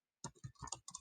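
Quick, close keystrokes on a computer keyboard, about eight crisp clicks in short bursts with a brief pause between them, alone and quiet.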